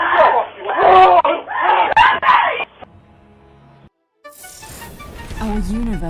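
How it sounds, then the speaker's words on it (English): A woman screams in the background during a home invasion, several loud wailing cries in quick succession, then a brief quiet gap before muffled voices and room noise return. "you can hear a woman screaming in the background"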